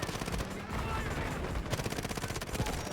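Rapid MP7 submachine-gun fire in the Delta Force shooter game, dense automatic bursts crackling almost continuously for the whole stretch, loud and close with a few sharper shots near the end.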